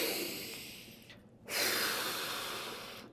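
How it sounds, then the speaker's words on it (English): Breathing during a children's relaxation exercise: a long, airy inhale or exhale fills the first second, fades into a brief pause, then a second fuller breath swells in around the midpoint and slowly tapers, close and moderately loud. "We are going to be breathing."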